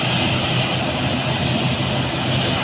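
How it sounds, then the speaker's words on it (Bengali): A loud, steady roar of a passenger airplane's engines fills the air, constant and close, with no voices. "বিমানটি আসছে প্রবাস থেকে"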